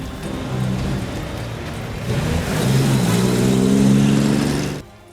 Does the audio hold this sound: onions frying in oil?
no